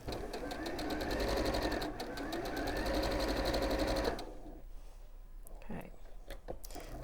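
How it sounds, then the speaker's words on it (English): An overlocker stitches fabric in a fast, loud mechanical whir lasting about four seconds, then stops. Quieter handling noises and faint talk follow. "this is a fabulous overlocker, so easy to use"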